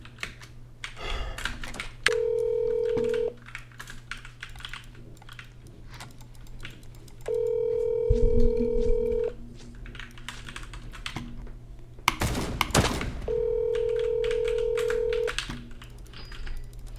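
A phone call rings out unanswered, with three long ringback tones evenly spaced across the stretch while keyboard typing clatters steadily nearby.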